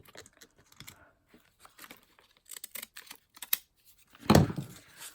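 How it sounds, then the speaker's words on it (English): Scissors trim paper for a collage in sparse, quiet snips and rustles, followed by a louder crunching cut near the end. "so I'm going to trim it right here. And I'm going to trim it over here"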